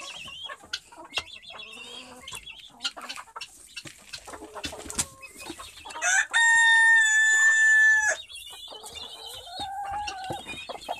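Chickens at evening feeding with ground corn, with scattered soft clucks and scratching close by and one loud rooster crow in the middle.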